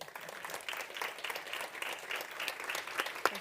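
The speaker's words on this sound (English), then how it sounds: "Let's give them another round of applause." Audience applause at a conference on early-years financing, steady dense clapping from a large room that fills the whole stretch without a break.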